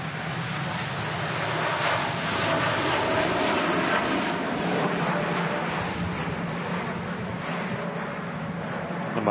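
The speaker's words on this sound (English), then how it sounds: "There we go, TUI Dreamliner next to depart." A TUI Boeing Dreamliner jet departs Manchester Airport with a steady, loud roar of engines that holds throughout at a distance, mixed with wind noise.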